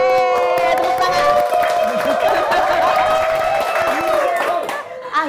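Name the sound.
studio clapping and cheering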